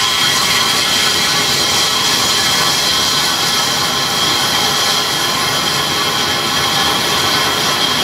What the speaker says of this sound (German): Und dann läuft ein Schleifstein komplett oben drüber und nimmt die dann halt wirklich bis aufs Genaueste oben ab